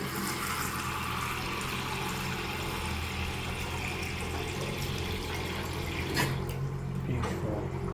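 Water tank steadily filling after a jammed stop tap was freed, a continuous rushing flow with faint dripping and a couple of brief knocks near the end.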